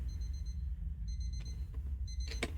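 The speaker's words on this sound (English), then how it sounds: "Turn the alarm off." An alarm clock rings in a video game during a ghost-hunting investigation, giving short bursts of high electronic beeping in repeated groups over a steady low hum, with a few brief clicks between them.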